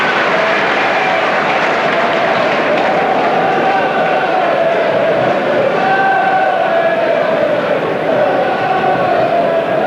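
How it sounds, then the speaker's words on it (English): Grimsby Town fans at a December 1990 football match against AFC Bournemouth: a steady wash of crowd applause and noise across the stadium, continuous and fairly loud, with a commentator speaking over it. "And what a good round of applause from the Town fans."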